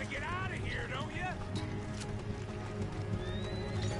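A horse in Red Dead Redemption 2 lets out a few shaky whinnies near the start, followed by a low rumbling backdrop and faint ambient game sounds.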